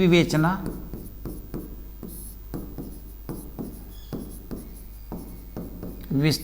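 Pen or chalk writing by hand, a series of short scratchy strokes in a steady stop-start rhythm, close and moderately loud, with brief voice sounds at the start and end.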